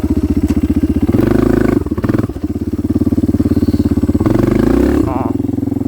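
A Kawasaki KLX 230R dirt bike engine roars loud and close during a wheelie, a steady throbbing drone that rises, briefly drops off with a clatter, then pulls hard again before easing.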